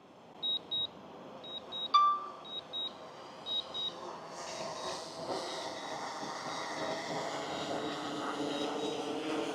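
DJI Air 3S drone hovering and descending to land on a beach, a steady whirring drone that builds louder, preceded by a series of short electronic beeps.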